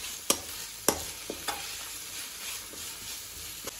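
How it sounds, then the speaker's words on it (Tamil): Capsicum (bell pepper) sautés in a pan with a quiet, steady sizzle, punctuated by a few sharp spatula taps and scrapes. "பாருங்கள், குடைமிளகாய் நல்லா வதங்கிடுச்சு"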